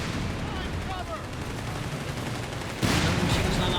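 Battlefield din from Company of Heroes 3 with dense machine gun fire crackling throughout, swelling into a louder burst near the end.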